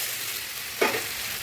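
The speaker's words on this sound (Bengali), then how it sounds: "মাংসটা ঢেলে দেবো," Mutton seasoned with turmeric, chilli and salt tipped into a hot pan of spice masala, a continuous frying hiss with a brief louder splash of sizzle midway, no talking.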